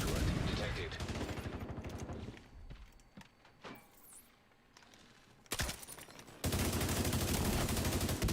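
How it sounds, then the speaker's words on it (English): Hostile assault turret firing in a video game, bursts of loud rapid gunfire in two stretches separated by a quieter lull with scattered shots. "Hostile assault turret detected."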